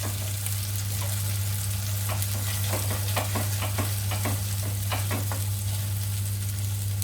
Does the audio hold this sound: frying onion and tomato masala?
yes